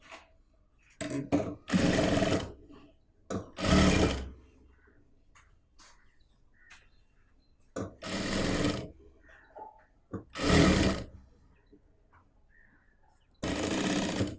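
A sewing machine stitching a churidar neckline at the shoulder runs in several short, loud bursts of rapid whirring, separated by quiet pauses with faint handling of the fabric; no one speaks.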